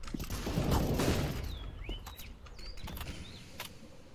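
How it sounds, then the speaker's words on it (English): A flashbang grenade thrown in CS:GO goes off as a loud, close burst of broadband noise early on, then fades into quieter game ambience with a few faint high chirps. "Throwing flashbang."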